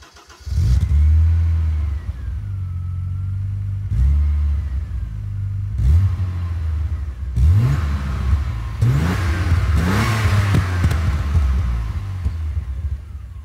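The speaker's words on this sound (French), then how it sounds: "La voiture fait un très beau bruit" A sports car engine fitted with dual rectangular exhaust outlets and an exhaust valve starts, then revs repeatedly in rising, rasping bursts with a deep rumble between them, loud and close, without talk.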